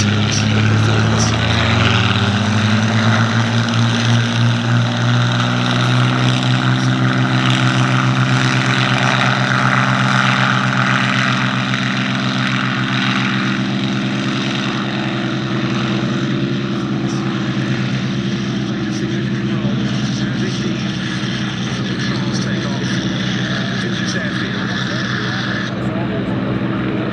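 A P-51 Mustang and Hispano Buchon piston-engined propeller fighters taxiing at the Duxford Battle of Britain Airshow: a steady, loud engine drone with a throbbing low rumble that carries on throughout, with a commentator's voice talking over it.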